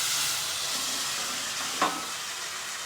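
Onion, garlic and freshly peeled tomatoes with red chili fry in ghee in a pan, giving a steady, close sizzle with a brief louder spit near the end and no voices.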